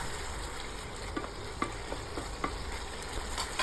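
Shrimp stir-fried in a pan with fish sauce hisses in a soft continuous sizzle, punctuated by a few light spatula clinks and scrapes, fairly quiet and with no voices.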